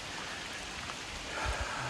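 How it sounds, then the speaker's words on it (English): Steady rain falls on a mountain hiking trail in the Great Smoky Mountains, a dense continuous hiss with a few heavier drops toward the end, no voices. "And it's raining."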